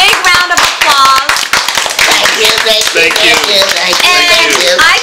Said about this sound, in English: let's give Mr. and Mrs. Wiggett a big hand, a big round of applause